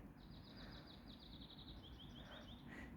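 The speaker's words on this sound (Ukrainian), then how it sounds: "Пташечки співають." Small birds singing in an outdoor hostel courtyard in Kyiv, a rapid series of thin, high chirps repeating through most of the moment, fairly faint over a steady low background hum.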